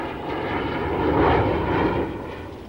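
A de Havilland Comet jet airliner, the early 1950s passenger jet, passes with a steady broadband roar that swells to a peak midway and then eases off slightly, heard alone without voices.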